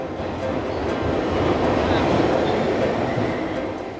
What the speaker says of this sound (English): We are going down the subway station.